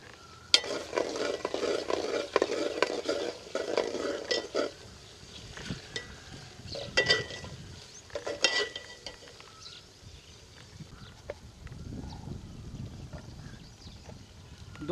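Whole dried red chillies and fenugreek seeds hit hot oil in a pan for Punjabi kadhi, giving a bright, crackling sizzle that is loudest at first and then settles into a quieter, uneven fry.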